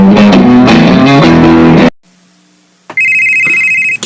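A mobile phone rings with an incoming call, a loud electronic ringtone melody that cuts off into near silence, then resumes as a steady, sustained electronic tone.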